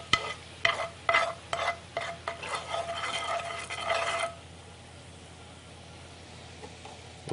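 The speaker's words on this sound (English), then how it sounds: "just kind of cook down the sauce a little bit more, just until it gets thick enough to start coating the spoon" Crepes Suzette sauce cooking down in a pan, a spoon scraping and stirring in quick bursts over a bubbling sizzle for about four seconds, then a quieter low simmer, no talk.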